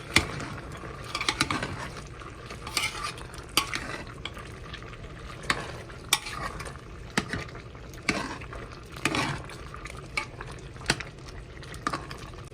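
Boiled kappa biryani of tapioca and meat being stirred in a pot, a series of close scraping, clacking strokes of a spoon against the pot in an uneven rhythm over a low bubbling background, no talk.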